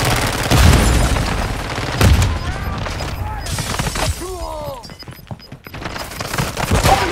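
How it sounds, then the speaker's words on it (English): A grenade blast and bursts of gunfire in a shooter video game, with loud booms and crackling shots up close, mixed with game effects and a player's voice talking over them. "Grenade out!"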